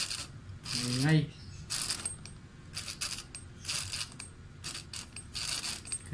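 A noisy speedometer gauge mechanism from a Mitsubishi Adventure, with its cable ruled out as the fault, gives repeated bursts of scraping, ratcheting mechanical noise while the gauge is turned slowly, heard close and alone.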